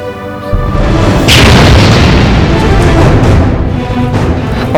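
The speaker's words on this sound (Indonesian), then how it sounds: "Pak Ustadz, kayak suara bom, Pak Ustadz." A loud, deep boom like a bomb explosion hits sharply and then rolls on as a sustained rumble with noisy crackle, very close and powerful, with no speech.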